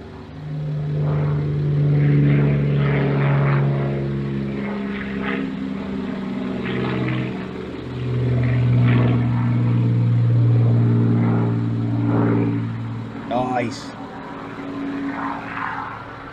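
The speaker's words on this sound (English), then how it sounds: "Oh, I can hear a Spitfire. Is it coming over?" A Supermarine Spitfire propeller plane drones overhead, a loud sustained engine hum that swells, eases and swells again as it passes, with no talking.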